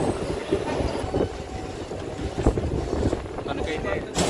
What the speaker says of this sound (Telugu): తణుకైతే డిపార్టెడ్ అయ్యింది ట్రైన్